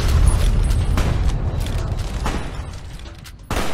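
Gunfire and booming blasts in the video game Fallout: New Vegas. Heavy, low thumps repeat over a rumbling bed, with a sharp loud shot near the end.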